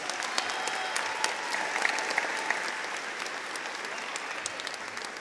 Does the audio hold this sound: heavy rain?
no